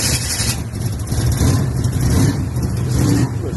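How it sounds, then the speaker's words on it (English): A car fitted with a new engine setup revs and rumbles under throttle nearby, a dense, steady roar with small surges and dips and no talk over it. "She already hit the gas."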